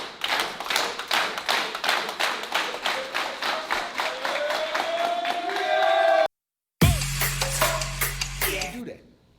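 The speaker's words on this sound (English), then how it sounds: "Clap it up if you're still here." A group at a community brotherhood gathering claps in a steady, driving beat while voices chant loudly over it. After a brief cut, a few more sharp claps follow.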